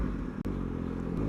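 A motorcycle rumbles steadily close by as it is ridden into the service area at the back of a dealership, its engine holding a low drone with a brief clatter near the start.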